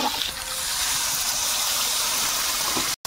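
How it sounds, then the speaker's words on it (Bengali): Water poured into a pan of frying egg, potato and pointed gourd curry makes a steady gushing rush with steamy hiss, close and continuous for about three seconds. "জল দেবো। একদম ভাজা ভাজা হয়ে গেছে সব।"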